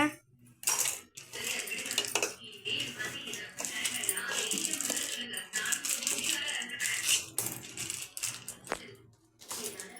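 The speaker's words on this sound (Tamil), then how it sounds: "இங்கே பாருங்க, ரவை வதக்கிக்கோங்க நல்லா ரவையை" Semolina roasting in a pan over a low flame, stirred with a metal spoon that scrapes and clinks against the pan in an irregular rhythm, close by, with someone talking over parts of it.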